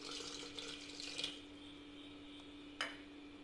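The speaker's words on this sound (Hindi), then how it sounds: "पानी डालेंगे आधा बाउल" Half a bowl of water is poured into a mixing jar holding gram flour and yogurt for a breakfast batter, making a quiet, soft splashing with a couple of short sharper clinks.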